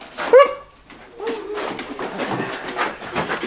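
A dog lets out a single short yelp or bark near the start, then faint muffled movement and rustling follow in a house setting.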